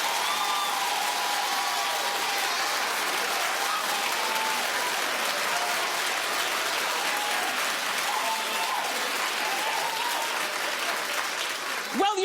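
Studio audience at a daytime talk show claps steadily for about twelve seconds, a loud dense wash of applause with scattered whoops and cheers riding on top, cutting off sharply at the end.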